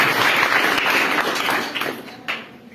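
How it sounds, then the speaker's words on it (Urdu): A church congregation applauds loudly, a dense, steady wash of clapping from a crowd that holds strong before thinning toward the end, with a few sharper claps standing out. "زوردار تالیاں بجائیں."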